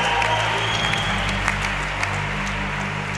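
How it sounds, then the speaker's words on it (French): Sustained, dense applause from a conference audience thanking the organizers at the RJ2018 event, steady and loud throughout over a low background hum. "Est-ce qu'on peut faire un tonnerre d'applaudissements pour les remercier?"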